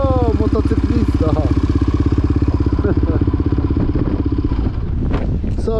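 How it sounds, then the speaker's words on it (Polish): Small Yamaha DT 50 motorcycle with a rapid two-stroke putter close by, steady and loud for several seconds before easing off, with people speaking over it. "O, motocyklista!"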